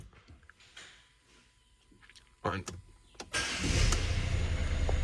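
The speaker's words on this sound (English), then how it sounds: "straight away I turn the key and up she fires" A 2021 Citroen Berlingo diesel with EGR valve and cooler work cranks briefly and fires up, settling into a loud, steady close-up idle after some clicks and rustling.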